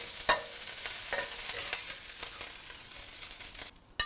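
Shrimp frying in hot oil for pineapple fried rice, a steady bright sizzle with a few spatula scrapes and taps, close and continuous, briefly dropping away near the end before a final clatter.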